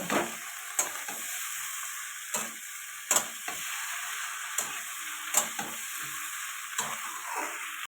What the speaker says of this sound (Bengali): ঢ্যাঁড়সগুলো দিয়ে দিলাম, এটা ভালো করে কষিয়ে নেব।